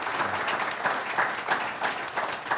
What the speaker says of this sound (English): Ladies and gentlemen, a round of applause for the panel